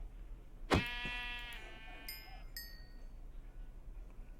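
In a video game, a sheep struck by an axe's Crushing Blow attack gives a sharp hit followed by a short, clear bleat, then two brief electronic tones ring out over a quiet background.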